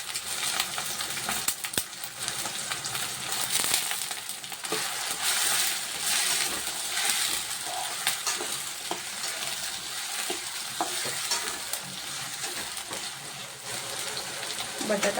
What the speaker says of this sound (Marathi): बटाटा पण थोडा भाजून घेऊया.